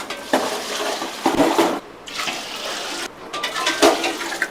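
Water poured into a cooking pot of rice and fish being made into khichdi in a rural kitchen, broad splashing bursts with short pauses and some clinking of utensils, close and fairly loud, no talking.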